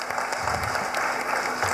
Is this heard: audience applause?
yes